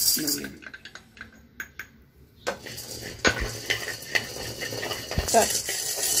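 Roasted urad dal scraped and tipped from a pan into a winnowing basket, giving a run of dry metallic clinks, scrapes and a soft rattling rustle of grains at close range.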